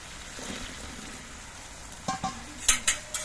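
Boiled potatoes dropped into a pan of oily spice paste cooked down for aloo dum, giving a soft sizzle followed by several sharp spoon-on-pan scrapes and clatters near the end, close and fairly quiet.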